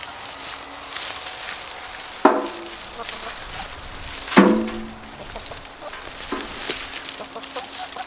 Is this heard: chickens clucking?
yes